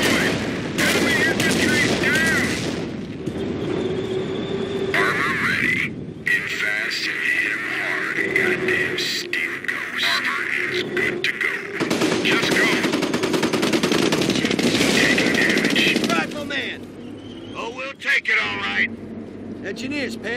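Machine gun fire and explosive gunfire in the Company of Heroes World War II strategy game, a dense, loud, sustained barrage with vehicle rumble, mixed under in-game radio voices talking.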